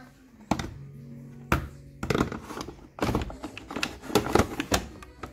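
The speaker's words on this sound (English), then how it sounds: "Put your tray back in." A washing machine detergent tray is pushed back into place, producing a series of sharp plastic knocks and clicks in quick bursts.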